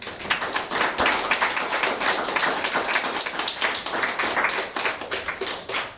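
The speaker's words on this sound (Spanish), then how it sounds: "Dale un aplauso a Jesús." Church congregation clapping and applauding during a sermon, a continuous dense patter of many hands at steady loudness, nearby and without talk.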